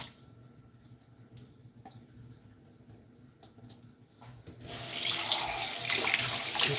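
Cold water poured into a measuring cup, about a third of a cup, starting as faint trickles and clinks, then becoming a steady, bright rushing stream like a tap running, close and loud.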